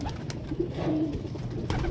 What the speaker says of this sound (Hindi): उनकी तरफ ये कबूतर जा रहे हैं